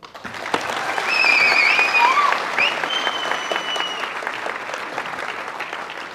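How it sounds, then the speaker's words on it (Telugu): An audience at a speech breaks into applause, a dense, steady clapping from many hands that swells and then holds, with a few faint voices and whistles mixed in. "మీరు నిజంగా వీళ్ళలో చప్పట్లు కొట్టాల్సిందే వాళ్ళకి"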